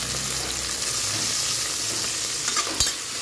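Vegetables sizzle and fry steadily in a pan after salt is added, a loud continuous crackle close by with a brief stir near the end.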